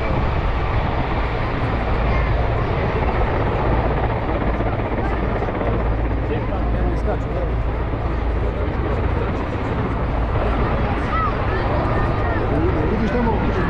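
A military helicopter flies over an air show at Batajnica, its steady rotor thrum loud and continuous throughout, with spectators talking faintly underneath.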